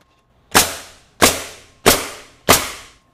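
A MAX SuperRoofer CN445R3 coil nailer drives nails into roof shingles, four sharp, loud close-up shots with even spacing and short decaying tails, no talking.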